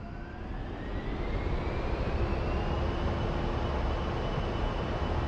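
Aircraft engine in a flight simulator game (DCS or War Thunder) spooling up to takeoff power with flaps set, a steady loud roar with a slowly rising whine, continuous throughout with no talk.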